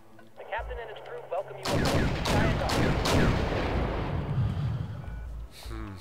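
Heavy artillery and gunfire from the video game Wargame European Escalation, dense rumbling salvos of booms and cracks that roll on continuously for several seconds. A short voice comes through before the barrage begins.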